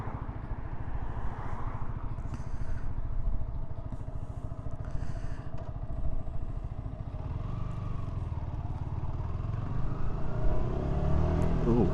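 Yamaha R125 Tech Black motorcycle with its stock exhaust, its engine droning steadily while riding and rising in pitch toward the end, with faint clatter and road noise around it.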